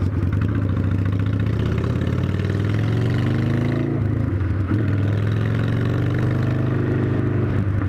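Motorcycle engine idling on a city street or parking lot, a steady low rumble that rises and falls slightly as the throttle shifts, close and loud with no talk.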